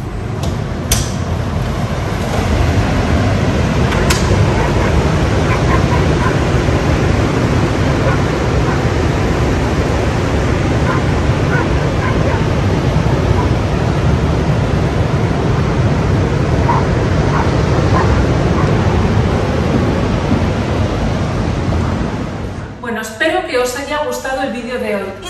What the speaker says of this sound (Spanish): Pues ahora voy a abrir las ventanas para que escuchéis el mar.